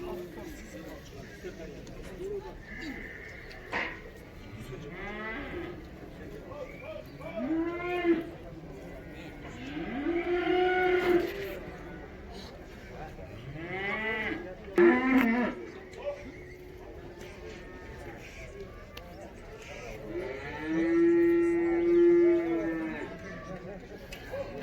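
Two- and three-year-old bulls moo at intervals at a cattle market in Karabulak, with several drawn-out lows, some near and loud, over constant crowd chatter and nearby talk.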